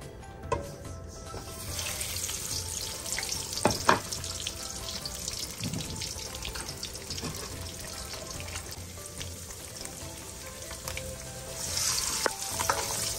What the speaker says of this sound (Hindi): अंडों को हम फ्राई कर लेंगे, बस हल्का सा।